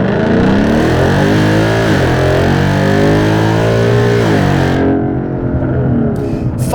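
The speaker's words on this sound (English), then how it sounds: "This would be a great opportunity to do a 0 to 60 test" A Ford Mustang accelerates hard uphill from a standstill in a 0 to 60 run with two people aboard, the loud engine note climbing steadily through rising revs with an upshift, then easing off near the end.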